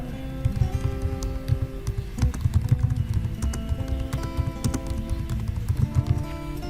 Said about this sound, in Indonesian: Oke, kita ketik, ini contoh